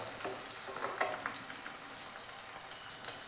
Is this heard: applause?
no